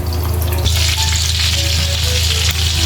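Chicken pieces sizzle loudly in hot cooking oil for a Mang Inasal-style fried chicken, a dense steady hiss that swells after a splash partway through.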